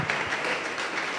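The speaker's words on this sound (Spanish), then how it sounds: "Denle un aplauso, Señor, en esta preciosa hora." Congregation applause in church, a brief burst of steady clapping from the gathered worshippers.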